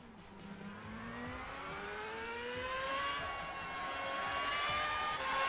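A race car in Gran Turismo 5 accelerates through a final bend toward the end of a lap, its engine note climbing steadily in pitch and holding loud and close throughout, with no talking.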